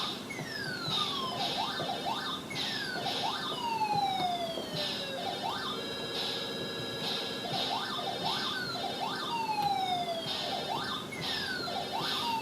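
NES-style Pac-Man game sound effects playing on a My Arcade Micro Player handheld: bright, repeating electronic bleeps and falling synth sweeps loop in a steady rhythmic pattern, close and alone, with no talk.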